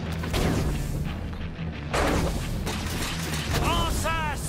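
Heavy cannon fire and booming blasts sound in the Sunset Overdrive video game, a dense rumbling barrage close and loud, with whistling projectile sounds near the end.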